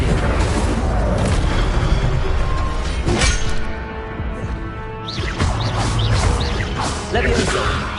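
A fire spell cast in a video game sets off a loud explosive boom, followed by a rushing whoosh and a dense, noisy rumble that fades briefly around the middle, then builds again.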